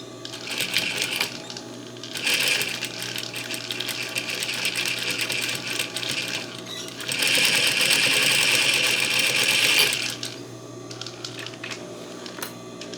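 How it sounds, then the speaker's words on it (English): An overlocker sewing machine stitching along the edges of fabric for a small museum Sunday dress, running in steady whirring bursts that rise louder twice, with brief pauses between runs and no talking. "And I'm gonna overlock stitch it as well."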